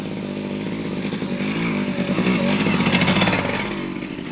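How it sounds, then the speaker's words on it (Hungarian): A motorcycle passes on a road, its engine swelling louder as it nears and then easing away, with a rough, buzzing drone throughout. "Tehát elment mellettünk most a motor."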